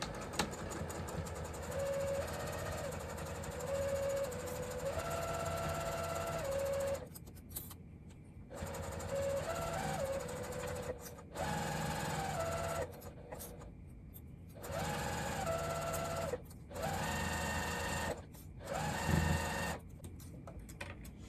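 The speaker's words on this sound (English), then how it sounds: "we're just going to stitch all the way down, cut across the bottom, and then sew right back up the other side" A sewing machine runs a long seam on a crossbody bag, stitching all the way around a rectangle: a steady, fairly quiet motor whir with light needle chatter, broken by several short stops, with no talking.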